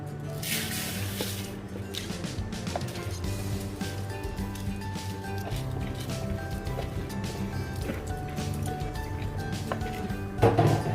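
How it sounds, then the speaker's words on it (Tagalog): Water poured into a pot of rice for champorado, giving close, soft sloshing, trickling and dripping sounds that continue steadily, with a brief louder splash near the end. "Lagyan pa natin ng tubig."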